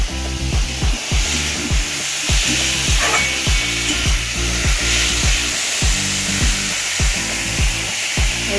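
Lentils being stirred as they fry in a pan, with steady scraping strokes in a repeating rhythm over a constant background hiss, close and fairly loud.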